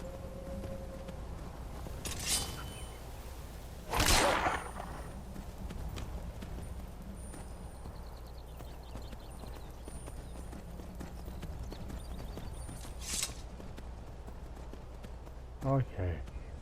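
Video game horse hooves clip-clop at an easy walking pace with a few louder thuds, over a constant low background hum.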